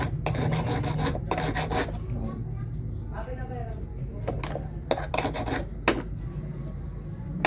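Hand file rasping a steel cuticle nipper's blades, heard as repeated short scraping strokes in bursts, close and fairly loud, with a voice talking between strokes.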